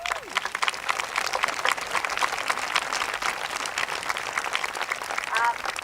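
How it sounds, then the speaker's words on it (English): A crowd at an immigrant heritage wall dedication breaks into sustained applause, fairly distant and moderate in level, with scattered voices and a few whoops mixed into the clapping. "A big round of applause."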